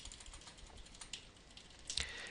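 Computer keyboard arrow keys tapped repeatedly with quick, light clicks at an uneven pace, quiet and close, with a slightly louder cluster of taps near the end.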